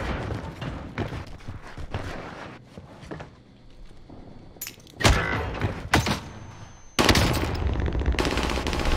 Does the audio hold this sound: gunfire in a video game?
yes